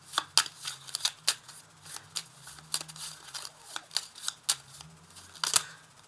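Tarot cards being shuffled and drawn make a series of crisp snaps, flicks and light slaps at close range, irregularly spaced, with faint movement between them and no talking.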